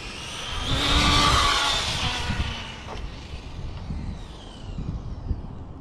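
A Traxxas 4Tec 2.0 AWD RC car's small brushless electric motor whines and swells as it speeds past, rising then fading, with rough rumbling from the wheels on the ground.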